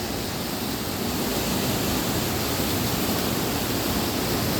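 Bugasok Falls, a waterfall in Conalom, Argao, Cebu, gives a steady, loud, broadband roar of rushing water that stays constant throughout, with no voices.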